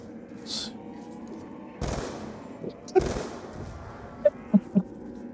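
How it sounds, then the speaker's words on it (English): Gunfire in Call of Duty Black Ops 2 Zombies, a few bursts of automatic fire followed by three sharp separate shots near the end, loud and close over low game ambience. "here I'll put some bullets into them for you"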